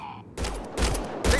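Gunfire in the Mass Effect Andromeda video game comes as short bursts of several shots, then a louder shot near the end, after a brief quiet start.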